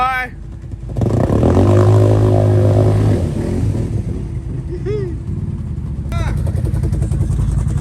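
A Chinese dirt bike engine revs hard in mud, a loud rising and falling roar with a sustained high-revving stretch that then eases into a rougher idle, set against outdoor noise.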